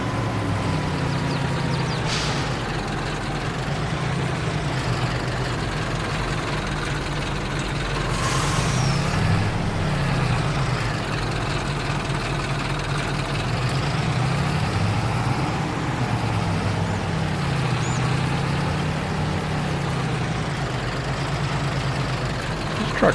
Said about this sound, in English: This truck really gets up and going pretty quick.